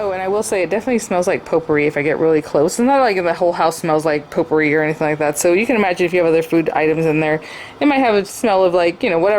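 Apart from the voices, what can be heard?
None of the usual background noises is heard.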